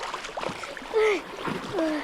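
Child swimming in water, splashing and paddling in short irregular bursts close by, with brief vocal sounds mixed in among the splashes.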